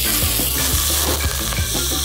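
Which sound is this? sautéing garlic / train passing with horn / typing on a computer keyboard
sautéing garlic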